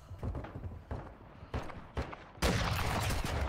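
Gunfire crackles during a firefight in the video game Warzone Mobile, with several sharp shots spaced irregularly, then a dense sustained burst of rapid fire at the end, moderately loud.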